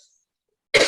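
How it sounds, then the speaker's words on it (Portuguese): A single short, sharp cough from a woman with a slight cold, close and fairly loud, following near silence. "Eu tô com um pouquinho de tosse"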